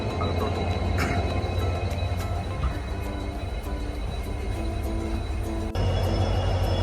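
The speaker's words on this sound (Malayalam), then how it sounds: "ട്രെയിൻ ഇതാ എടുത്തു." A Southern Railway passenger train pulls out of the station at Rameswaram, bound across the new Pamban Bridge. A steady, loud low rumble of engine and rolling wheels continues throughout, with faint metallic squeals and clanks above it.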